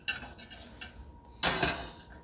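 Light metallic clinks and a scrape as a stainless steel trivet is set down inside a saucepan, quiet and close, with a brighter clatter near the end.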